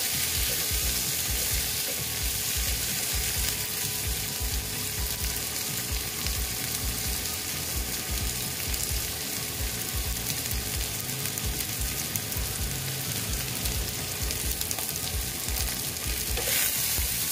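Chopped tomatoes frying in a pan while cooking an egg and okra dish, a loud, continuous crackling sizzle with steady stirring scrapes throughout, no talk.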